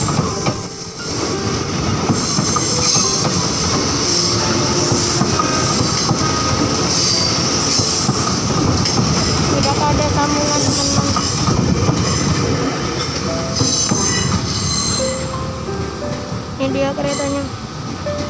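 A KRL JR 203 commuter train rolls out of the Bukit Duri depot with a loud, steady rumble of wheels and carriages, plus occasional squeals and clacks, lasting throughout and fading slightly near the end.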